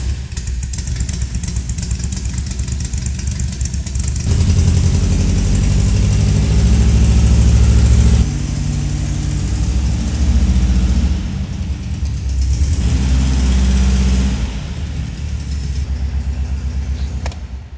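A loud engine of a Porsche 356 Speedster replica built on a Volkswagen Beetle base rumbles steadily nearby, idling and then revving in a few swells before settling again, with no voices.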